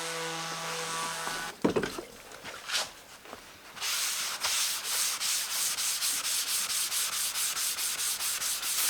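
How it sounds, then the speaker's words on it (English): Sandpaper rubs against the wood of a guitar build in a few scattered scrapes, then settles into a steady rhythm of quick back-and-forth strokes, close and clear. "So I'm just gonna be using sandpaper."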